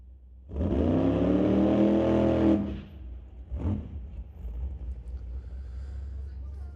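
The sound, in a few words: drag racing dragster making a test run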